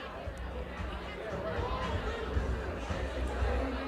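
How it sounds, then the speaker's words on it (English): Crowd chatter fills a Michigan election watch party for Governor Whitmer in Detroit, a dense, steady hubbub of many overlapping voices indoors with no single speaker standing out. "the crowd is growing"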